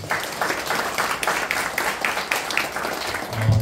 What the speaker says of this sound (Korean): 또 박수로 환영해 주시면 감사하겠습니다.